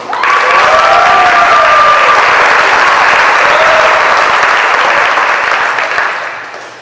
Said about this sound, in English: This is worth a big round of applause in and of itself.